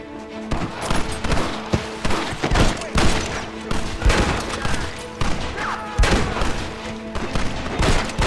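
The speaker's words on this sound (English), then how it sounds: "Keep shooting!" Sustained gunfire in the video game Red Dead Redemption, with repeated sharp shots and booming blasts in an irregular barrage, loud and close, mixed with shouting voices.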